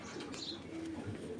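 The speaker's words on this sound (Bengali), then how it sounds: "দেখেন এগুলো একদম হাই কোয়ালিটির কবুতরের বাচ্চা।" Young racing pigeon chicks cooing softly nearby, a few low murmuring coos over a faint background hum, with no voices.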